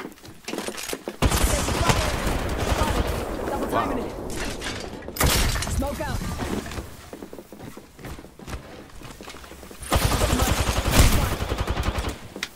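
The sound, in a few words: gunfire in a shooting video game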